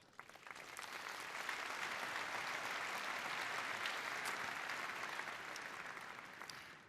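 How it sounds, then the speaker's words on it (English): A large keynote audience at Cisco Live 2025 in Amsterdam applauds in a dense, sustained wash of clapping that swells and then slowly tapers, heard from a distance in a big hall. "Big applause to all of you."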